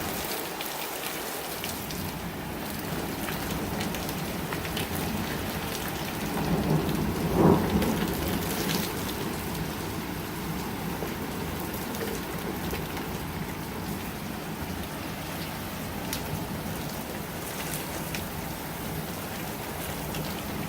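Heavy Minnesota rainstorm: a dense, constant roar of falling rain with a single deeper rumble of thunder swelling midway, steady and enveloping, with no voices.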